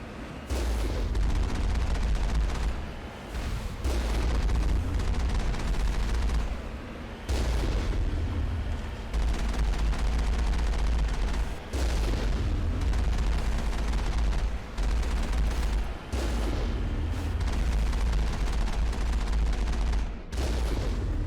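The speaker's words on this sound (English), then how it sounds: "The rogue AI is gonna shoot at us." Gunfire from rogue AI turrets in the video game Moonbase Alpha: dense, continuous bursts of loud booming shots and explosions, nearly unbroken for the whole stretch.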